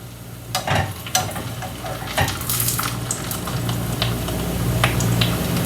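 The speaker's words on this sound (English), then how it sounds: "I wanted to sizzle, and I wanted to cook fast because I just want to crisp it up" Oil sizzles and crackles steadily in a pan as a taco shell fries and crisps, with a few clinks and scrapes of a utensil against it.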